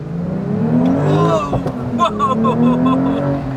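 A Porsche 911 992 Sport Classic accelerates hard in Sport Plus, its engine note climbing in pitch through the revs with a gearshift break midway, loud and close from inside the cabin, with someone talking over it.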